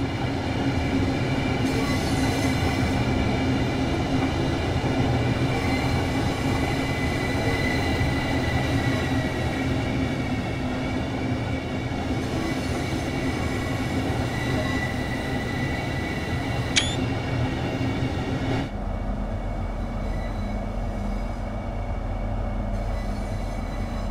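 A Class 395 Hitachi Javelin electric train in a simulator runs steadily with a loud continuous rumble and droning motor tone, a brief high squeal near the end before the sound shifts to a deeper, quieter hum.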